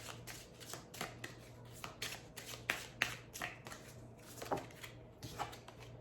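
Tarot cards being shuffled by hand for a clarifier draw: a steady series of crisp riffling bursts and soft slaps, close and fairly quiet, with a faint low hum underneath and no talking.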